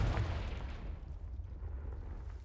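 A Confringo explosion spell in the Hogwarts Legacy video game bursts with a heavy, rumbling blast that booms at the start and rolls away into a low, lingering roar.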